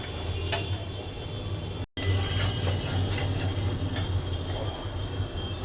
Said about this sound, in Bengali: এভাবে খুন্তি দিয়ে ভালো করে নেড়ে চেড়ে যেতে হবে